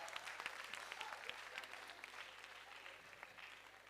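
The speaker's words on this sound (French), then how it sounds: "applaudissez d'abord" Festival audience clapping during a comedy stand-up show, a fairly faint, quick patter of many hands that gradually thins out.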